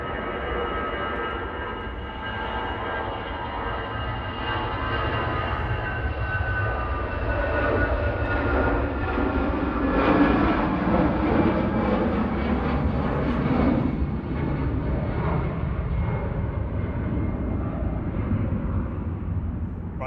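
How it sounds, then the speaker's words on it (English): A Boeing 737-800 jet on short final approach at Manchester Airport, a loud continuous engine roar and whine that swells slightly as it passes closer, then holds steady throughout. "SPRKV 737-800 on short final. You'll see that, or hear that in the background"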